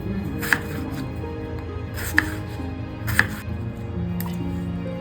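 Potatoes with skin on being cut lengthwise into strips on a board, a few sharp knife chops spaced about a second apart over steady low kitchen background noise.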